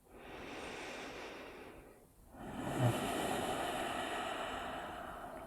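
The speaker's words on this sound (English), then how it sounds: "So let's maintain this oceanic sounding breath. So it's also called Ujjayi breath." Ujjayi breathing through the nose with the throat constricted during a yoga flow, two long ocean-like breaths, an inhale and then a longer exhale with a short pause between, close and soft with no speech.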